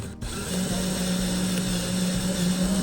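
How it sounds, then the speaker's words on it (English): A power drill bores through steel EMT conduit, a continuous grinding whine with a steady hum, close and loud with no voices. "I'm gonna start turning the drill on without putting a lot of pressure"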